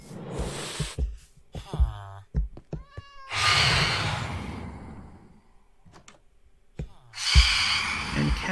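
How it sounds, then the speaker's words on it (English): Cats meow repeatedly in Minecraft, several bright, rising mews scattered between bursts of louder noise and a few thumps, close and fairly loud. "And cats are spawning."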